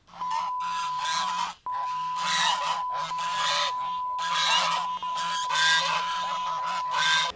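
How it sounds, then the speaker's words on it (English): Geese on a sidewalk honk loudly and nearly nonstop in harsh, repeated blasts close by, with a brief gap partway through and no speech. "I got in a little mischievous incident with some geese. They were chasing me down the sidewalk."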